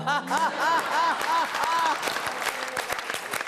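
Audience applause at a Hindi poetry show, loud clapping rising in a burst and carrying on steadily, with a speaking voice heard over the start.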